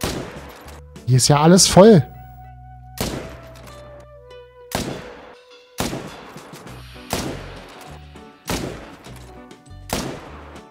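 Gunfire in theHunter: Call of the Wild during a bison hunt: about seven loud, sharp shots spaced roughly a second apart, each with a ringing tail, one burst mixed with other game noise, a voice talking briefly near the start.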